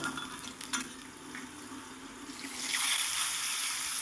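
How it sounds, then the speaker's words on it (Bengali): Bay leaves, a dried red chili and whole cumin fry in hot oil, starting with quiet stirring and a few clinks, then breaking into a louder, continuous crackling sizzle. "ফোড়নটাকে একটু নেড়ে চেড়ে সুন্দর করে ভেজে নেব"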